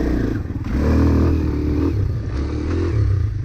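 A Kawasaki KLX 230 dirt bike engine running close by with a rough, throbbing low-end chug that surges and wavers, set to a lowered idle with the throttle fully closed, no voices present.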